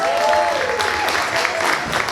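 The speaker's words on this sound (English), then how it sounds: "Give a massive round of applause, Hunters!" A crowd at a mela talent show final in Luton applauds, a thick spread of clapping with some cheering and a faint tonal sound early on, fairly loud and continuous.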